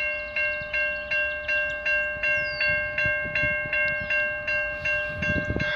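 A westbound CN freight train passing in Milton, Ontario, its horn sounding in a long series of evenly spaced blasts over a rumbling, rattling roll of cars, loud and close, with no talk.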